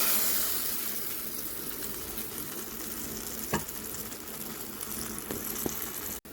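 Ground lentil paste mixed with asafoetida hits hot oil in a pan, giving a steady, moderately quiet sizzle and frying hiss with a few soft stirring knocks, and no voices.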